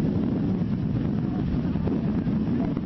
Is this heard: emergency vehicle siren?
no